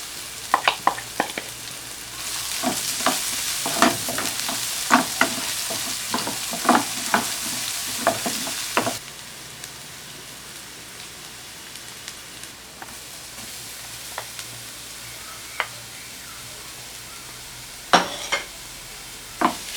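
Chopped onion sautés in a hot pan, a loud steady sizzle broken by repeated scraping strokes of a stirring utensil for about nine seconds, then a quieter simmer with a few isolated clinks.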